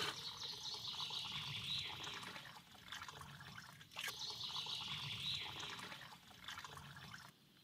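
Rice is rinsed and then filled with water for pilaf, giving continuous splashing, trickling and pouring close by, with a short pause partway through before the flow resumes.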